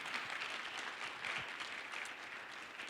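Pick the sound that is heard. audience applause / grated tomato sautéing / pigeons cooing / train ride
audience applause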